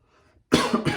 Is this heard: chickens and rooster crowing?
no